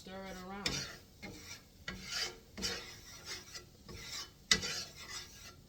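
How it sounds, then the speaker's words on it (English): A big spoon scrapes and stirs through flour in oil in a cooking pot, a close, rhythmic rasping repeated in strokes with brief louder scrapes, over a faint background hiss and no talking. "and then you just stir it around"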